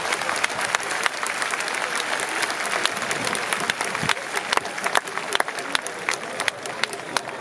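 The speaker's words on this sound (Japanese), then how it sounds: "皆様、盛大な拍手をお送りください。" A stadium crowd at Yokohama Stadium applauds steadily during a baseball ceremonial first pitch, a dense, loud wash of clapping with sharper individual claps poking through for the whole stretch.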